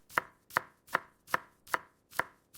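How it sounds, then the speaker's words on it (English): A knife chops food on a cutting board in six sharp, evenly spaced strikes about half a second apart, each a crisp close knock with a short decay, with no voices. "Cutting food into pieces."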